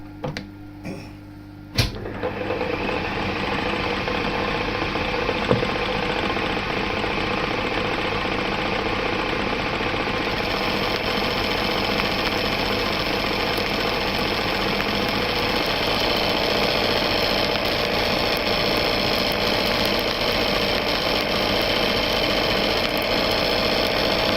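A metal lathe machines a car clutch part with a steady mechanical drone and faint rattling, running continuously for over twenty seconds after a couple of brief knocks at the start; no speech.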